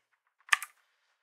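A keyboard command typed on a computer keyboard: a couple of faint taps, then one sharp, close double click of keys, with quiet before and after.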